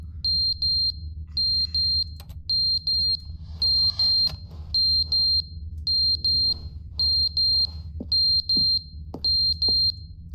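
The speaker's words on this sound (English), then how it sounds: "Oh, it's the fire alarm." Fire alarm in The Stanley Parable video game: a loud, high electronic beeping that repeats in regular bursts of several quick tones with short gaps, steady across the whole stretch over a low background hum.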